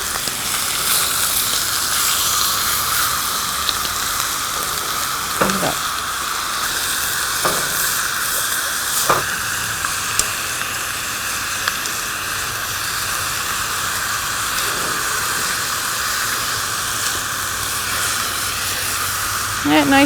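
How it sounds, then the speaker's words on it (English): Pork chops searing in a pan make a steady, close sizzle and hiss throughout, with a few brief clicks and scrapes as they are moved. "This is called searing them, so that when they cook in their juices, that the meat will stay tender."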